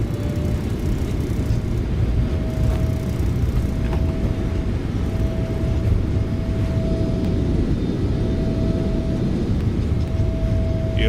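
Steady, loud jet engine roar with a constant whine from a PMDG 777-300ER airliner rolling out after landing in MSFS 2024, a continuous broadband rumble holding throughout with no talk.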